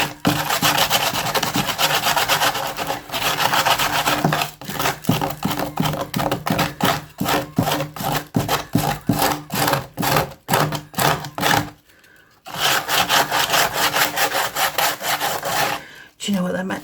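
Sandpaper rubbing on a carved wooden feather, a steady rasping scrape in quick back-and-forth strokes, close and fairly loud, with two brief pauses near the end.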